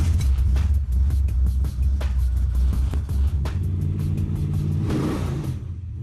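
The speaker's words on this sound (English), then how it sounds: "you'll instantly recognize this car and its roar." A fully restored car from The Fast and the Furious roars close by, its engine rumbling deep and loud with repeated throttle blips, then easing off and fading toward the end.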